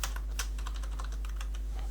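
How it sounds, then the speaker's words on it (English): Steady, rapid keystrokes on a computer keyboard as a name is typed, close and even, with a constant low hum underneath. "I am going to type in my name."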